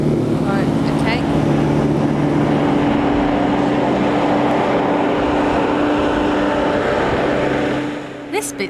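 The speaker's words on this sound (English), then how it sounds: "slowly bring the RPM up, the engine revs, open the throttle slowly" A loud hovercraft engine drones and roars steadily close by as the throttle opens, rising in intensity and holding, then dropping off near the end amid some clatter.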